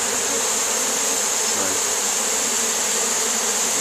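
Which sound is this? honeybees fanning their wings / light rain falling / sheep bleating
honeybees fanning their wings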